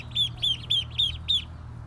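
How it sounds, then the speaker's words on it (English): Week-and-a-half-old ducklings out on a yard lawn give five evenly spaced, shrill peeps, close and clear, followed by quiet. "Hello, little baby ducks"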